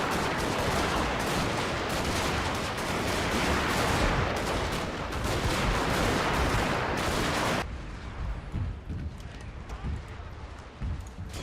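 Gatling guns fire in Fall of the Samurai, dense rapid crackling gunfire with galloping cavalry and battle clamor, loud for several seconds before dropping abruptly to quieter scattered shots and movement, with a voice talking over it.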